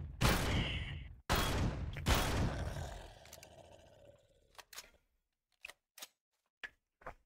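Gunfire in the space survival game Empyrion Galactic Survival, shooting through a wall: three loud, roaring blasts that each ring out, then several short, fainter cracks spaced apart, with no talking.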